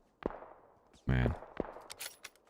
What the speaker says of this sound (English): This guy's shooting me from way over yonder.